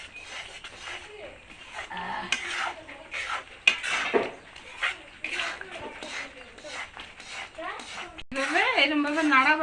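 Chana dal mixture with ghee, chopped cashews and rice being stirred in a pan for motichur laddu, with scraping and clinking of a spatula against metal, intermittent knocks, a dog barking and a voice talking over it.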